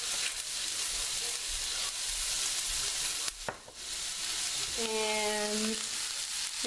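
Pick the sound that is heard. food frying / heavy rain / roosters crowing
food frying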